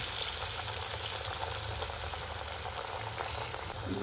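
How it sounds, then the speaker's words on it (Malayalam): Balls of parippu vada lentil fritter batter go into hot boiling oil, giving a steady close broadband sizzle and bubbling hiss that holds evenly throughout with no talking. "ഞാനിനി എണ്ണയിലോട്ട് തിളച്ച എണ്ണയിലോട്ട് ഇടാം"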